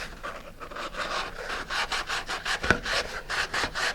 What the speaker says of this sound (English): Probably sand both the inside of the coupler and the outside of the centering ring.